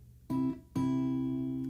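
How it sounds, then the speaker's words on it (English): A guitar dyad plucked twice in quick succession; the first stroke is cut short and the second rings on, fading gently. "And then we're going to pick them together again twice fairly quickly."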